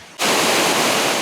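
A waterfall serving as a reservoir spillway roars as a loud, steady broadband rush of falling water. It starts abruptly after a brief quieter moment and holds constant and close with no voices.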